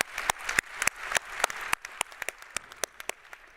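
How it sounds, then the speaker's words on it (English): Audience applause at a panel discussion on a resilient, nature-positive future, a modest group clapping, starting as a fuller burst and thinning to scattered individual claps, moderately quiet with no speech. "let's get a hand of applause for that."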